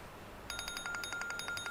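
A phone ringtone from a music video, a quick bright electronic chime repeating in rapid pulses, faint and alone after a short quiet start.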